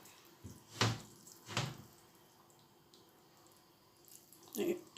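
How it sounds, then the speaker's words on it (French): Fish lifted out of a bowl of salted water, giving three brief, wet splashes and drips separated by quiet pauses, close and fairly soft. "je retire mon poisson dans l'eau salée"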